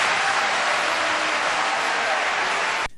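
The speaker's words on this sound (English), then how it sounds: "cheering the people that did raise their hands" A debate audience applauds and cheers in a dense, loud roar that holds steady, then cuts off abruptly near the end.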